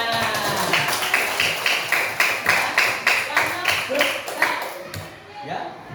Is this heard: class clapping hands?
yes